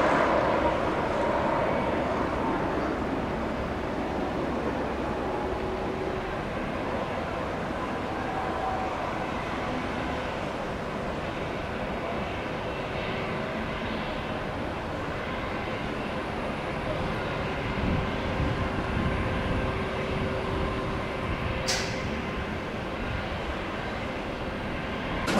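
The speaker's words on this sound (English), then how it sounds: "there's another Southwest coming in on one left" A Southwest airliner landing at Tampa airport, heard as a steady distant jet roar and rumble that holds for the whole stretch with a faint brief high whine late on.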